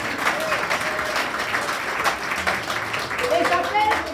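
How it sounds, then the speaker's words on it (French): An audience at a church baptism ceremony bursts into sustained, loud applause that fills the room, with crowd voices cheering and calling out over the clapping. "On acclame pour elle."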